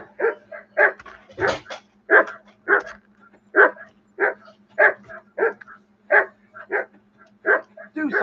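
A dog barks in the video game Kingdom Come Deliverance 2, a loud, close series of sharp barks repeating roughly every half second for several seconds with no talk over them.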